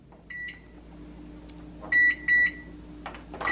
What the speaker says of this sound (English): I need to microwave it for 1 minute to soften it